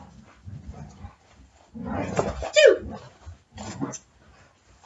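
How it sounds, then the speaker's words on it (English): Dogs play-fight over a toy in a home, with scuffling, growls and a yelp rising midway, mixed with nearby talk before and after. "The dogs are fighting over a toy."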